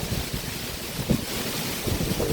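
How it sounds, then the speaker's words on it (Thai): Strong gusting wind roars steadily before rain, buffeting the microphone in a broad, constant rush with a few low thumps, no talk. "ลมแรงมากเลย"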